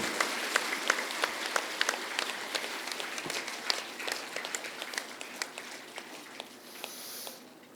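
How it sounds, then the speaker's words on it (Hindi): An audience at an International Yoga Day gathering applauds with steady, dense clapping, individual claps popping out of the crowd sound and fading toward the end. "सभी एक दूसरे के उत्साहवर्धन में तालियों की गड़गड़ाहट कर रहे हैं।"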